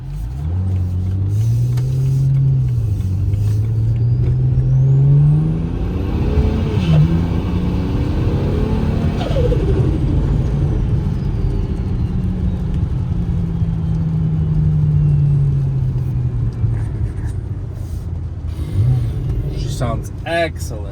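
A single-turbo manual car driving, its engine note rising and falling through revs and gear changes heard from inside the cabin, loud and continuous, with a person talking over it.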